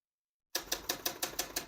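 Typing on a 1963 Olympia Socialite vintage portable typewriter: after a short silence, a steady run of about eight crisp, close key strikes lands at an even rhythm, with no voices.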